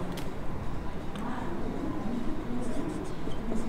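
Chalk or marker writing on a classroom board, heard as a continuous scratching under a teacher's faint voice.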